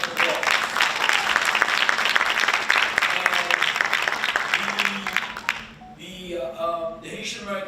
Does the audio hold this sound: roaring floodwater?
no